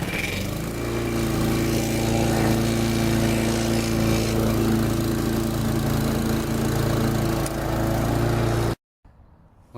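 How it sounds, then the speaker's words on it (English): A lawn mower runs steadily and close by during a leaf cleanup, its engine droning at an even loud pitch for several seconds before cutting out abruptly, leaving near silence. "Now this mower is quick."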